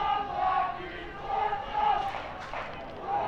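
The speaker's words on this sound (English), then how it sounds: "as the crowd start cheering and getting behind their team" Crowd at a Grootbrak versus Barberton rugby match, a distant swell of cheering and shouting that rises and falls in waves, with a commentator's voice over it.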